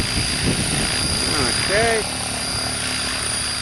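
Model helicopter hovering nose in during hover practice, a steady rotor and motor drone filling the background while someone briefly speaks over it.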